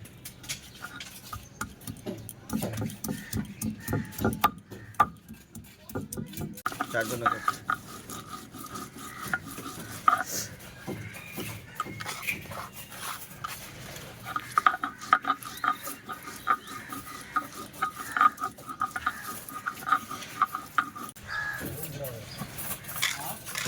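Ginger and green chili are ground into a spice paste on a stone, with a continuous rough scraping and rasping that runs close and steady throughout. Voices are faintly present underneath.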